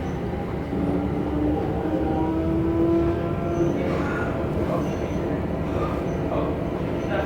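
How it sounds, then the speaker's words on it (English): A GVB Amsterdam metro train riding between stations, heard from inside the car: a steady rumbling roll with rising and falling whining tones and faint squeals, no talk. "This metro leaves in 1 minute,"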